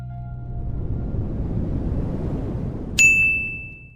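A single bright notification bell ding rings out clearly near the end, following a low muffled rumble, then fades with a sustained ringing tone.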